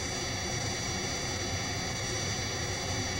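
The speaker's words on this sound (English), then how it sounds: "Let's listen to how this jet noise can be altered when parts of it are filtered or removed" Synthesized jet engine noise, a constant broadband roar with a whining high edge, steady and unbroken from start to finish, alone without any voice.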